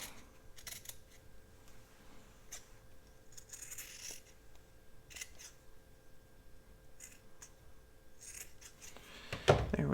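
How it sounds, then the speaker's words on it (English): Scissors cut out fabric and paper in short, quiet, intermittent snips and rustles, close by, with a louder thump near the end. "I'm going to cut this out."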